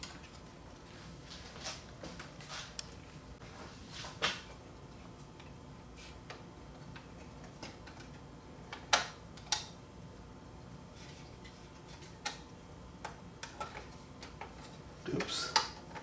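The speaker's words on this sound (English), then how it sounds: "Just put the plugs back together." Plugs are pushed back onto the circuit board of a Sony SLV-R5 S-VHS VCR. Faint plastic clicks and taps come at irregular intervals over quiet background, with a brief louder rattle near the end.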